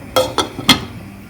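Three quick metallic clinks ring out in succession as a lid is set and settled onto a pot of egg curry, then quiet.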